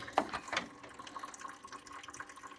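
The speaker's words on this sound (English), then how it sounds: "now all the antifreeze is leaking out. It's really slow though" Antifreeze trickles slowly out of the opened drain on a 1991 Ford Ranger XLT radiator, a faint, thin, continuous dribble with a couple of small splashes near the start.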